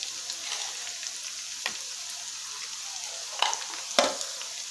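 Spinach and potato are stirred and fried in a pan, giving a steady soft sizzle with a few sharp scrapes and clinks of the spoon against the pan.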